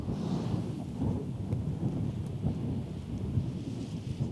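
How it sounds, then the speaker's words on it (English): Strong gusting wind buffets the microphone on an exposed hill, a loud continuous roar with low rumbling surges throughout. "It's gusting 15 to 20 miles an hour, which is more than enough for me."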